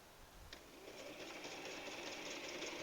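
A Toyota Power Fabriq 17 sewing machine stitches pattern 15, an overlock-style stitch, through fabric, its fast, even mechanical whir starting after a brief click and continuing quietly and steadily, with no voices.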